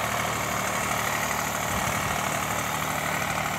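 A 2017 Eicher 485 tractor engine running steadily, a dense, constant loud idle-like drone with low rumble and broadband noise throughout, no talking.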